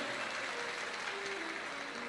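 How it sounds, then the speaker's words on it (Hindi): A crowd claps in welcome for a host family at an indoor gathering, a steady dense wash of applause filling the space throughout with no talk over it. "एक बार यजमान परिवार श्री अमरजीत जी मेहता जी के लिए जोरदार ताली बजाकर स्वागत वंदन अभिनंदन।"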